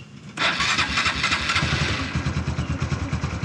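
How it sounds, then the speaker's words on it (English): A Honda Cub motorcycle, a C125 small-displacement single, cold-starts: a brief starter burst gives way to a loud, close, steady idle that settles into an even thumping rhythm. "we're going to do the cold start on the Cub first because It has a tendency to sputter and die when you start it the first time"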